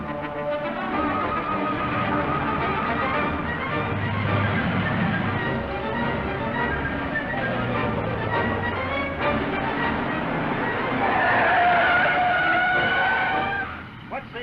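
Car tires squeal and skid during a 1940 Green Hornet serial chase, a loud, sustained screech layered over revving engine noise, rising to a sharper wailing squeal near the end before cutting off.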